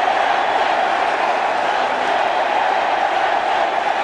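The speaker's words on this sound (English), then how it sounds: "And what a reception from the crowd." Steady roar of a large cricket crowd cheering Sachin Tendulkar's arrival at Wankhede Stadium during a 2011 Test against West Indies, a continuous, loud, even wash of massed voices with no gaps.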